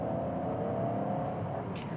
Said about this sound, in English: So it does sound a little bit like a Daihatsu Charade now under load.